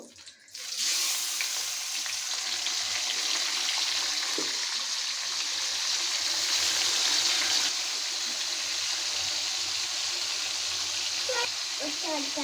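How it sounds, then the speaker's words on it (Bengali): Skin-on meat pieces frying in oil in a pan for potato biryani, giving a loud, steady, close sizzling hiss that runs unbroken for several seconds with only a few faint clicks. "মাংসটা আমি পাঁচ মিনিট ভাজবো"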